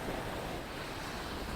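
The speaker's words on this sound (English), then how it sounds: "I want some crashing waves" Waves washing onto Folkestone beach in the early morning, a soft continuous surf roar with some wind noise, fairly faint and distant.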